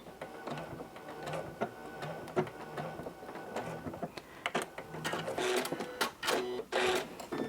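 A Janome CM17 sewing machine with a walking foot runs a locking wavy stitch, its rapid mechanical ticking steady and close, rising louder toward the end, with no voice over it.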